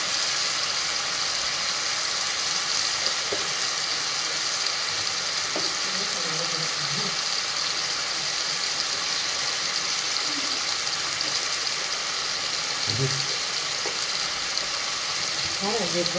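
Chicken curry ingredients sauté in a pan for a pressure-cooked kozhambu, a steady dense sizzle running loud and continuous from start to end, with a few faint voice fragments underneath.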